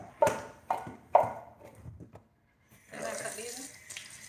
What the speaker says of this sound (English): So I'm just cutting the can and pouring it up so you guys can see.